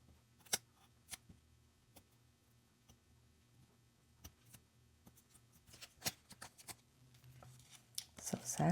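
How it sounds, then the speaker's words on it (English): Scissors cut out a blue paper section in quiet ASMR crafting, crisp close snips spaced apart at first, then quickening toward the end, with soft talk heard faintly. "But let's cut out this blue part."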